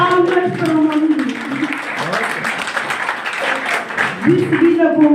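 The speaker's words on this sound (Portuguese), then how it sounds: "Palmas para o Mamulo." An audience at a diploma ceremony for the first journalism graduates of CMICS in 2026 applauds a new graduate; a few seconds of dense clapping sit between stretches of a speaking voice at the start and end.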